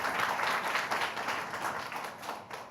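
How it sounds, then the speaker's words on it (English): A small audience claps steadily for a few seconds, the applause fairly even and moderately distant before tapering slightly. "let's give them a big round of applause"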